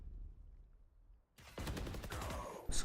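Odin machine gun from Valorant firing, a sudden sustained burst of rapid shots after a brief near-silence, loud and dense and continuing to the end.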